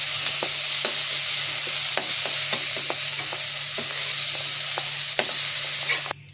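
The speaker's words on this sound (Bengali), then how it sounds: "ফুলকপিটা হালকা ভেজে নিয়েছি, এবার নামিয়ে নিচ্ছি" Cauliflower florets frying lightly in oil in a pan give a steady, close sizzle with occasional sharp crackles and stirring scrapes, cutting off abruptly near the end.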